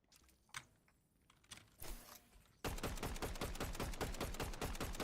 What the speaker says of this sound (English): He's gonna shoot you with that.